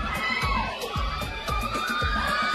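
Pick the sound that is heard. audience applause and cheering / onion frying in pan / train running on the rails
audience applause and cheering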